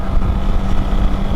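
A Fantic Caballero 500 motorcycle rides through the Yorkshire countryside, its engine droning steadily at close range, mixed with rushing wind noise.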